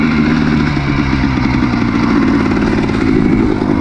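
A 1999 Yamaha Blaster 200 ATV being ridden, its engine close and loud with a steady rough buzzing drone and a fast pulsing beat throughout, no talk over it.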